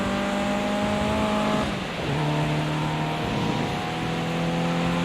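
A front-wheel drive road car's engine drones loudly and steadily as it is driven hard through corners with heavy understeer, the pitch dropping briefly around a gear change before climbing again.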